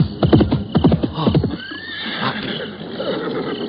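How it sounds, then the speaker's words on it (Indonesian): Horses of an approaching cavalry troop in a radio drama effect, with loud clip-clopping hooves and neighing whinnies up front, then a softer, more distant rumble of hooves. "ada pasukan berkuda datang kemari"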